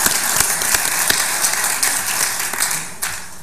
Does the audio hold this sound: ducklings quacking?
no